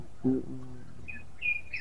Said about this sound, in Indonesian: Wah, burung banyak tuh.